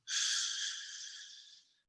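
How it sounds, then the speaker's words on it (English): A single slow, airy breath drawn in close to the microphone, starting strong and tapering off gradually over nearly two seconds. "you inhale for a 4 count"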